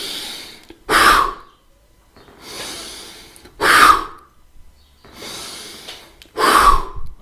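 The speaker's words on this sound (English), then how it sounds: "On your breath in, really opening up and inflating, and the out squeezing and getting it all out." A guided deep breathing exercise with three slow cycles, each a long, soft inhale followed by a forceful, audible exhale through the mouth, close and clear, with no speech.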